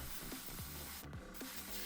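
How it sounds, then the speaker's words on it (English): Close, steady hiss from an aerosol can spraying dark blood-red paint over black primer on a polymer clay Red Hulk figure, with short pauses in the spray. "With his nappy complete, it was time to get spray painting some red."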